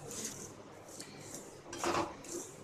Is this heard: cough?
no